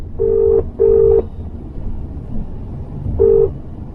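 A telephone number being dialed shows up as three clear, loud tone beeps, two close together and then a third after a pause, over a low background murmur with no talking.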